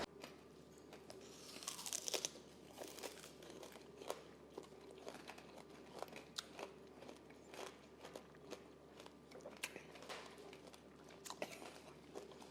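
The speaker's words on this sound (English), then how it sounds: "So I want to hear this crunch real quick." Biting into a homemade candy apple gives a loud, close crunch, then repeated crisp crunching and chewing of the hard candy shell and soft apple, with no talking over it.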